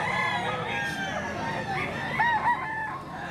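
A Lemon 2.5 bloodline rooster at a chicken seller's stall crows once, loud and near, with a wavering, drawn-out call over background chatter and market noise.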